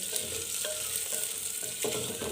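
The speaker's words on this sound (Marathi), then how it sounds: "हे मी व्यवस्थित तेलामध्ये परतून घेते" Homemade biryani spices fry in hot oil, a steady close sizzle with soft stirring scrapes in the pan, continuous and even throughout.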